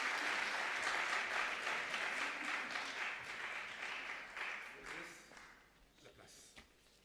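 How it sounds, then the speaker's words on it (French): Dense applause from an audience at a women-in-digital awards ceremony honouring the finalists, loud and sustained at first, then gradually thinning and fading over about seven seconds. "on peut aussi applaudir les deux autres finalistes."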